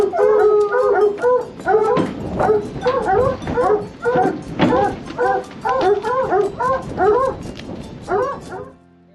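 A pack of hunting dogs howls and bays in repeated overlapping bursts while tracking a lion scent in a canyon in southeastern Arizona near the Mexican border, loud and close, without a break for about nine seconds.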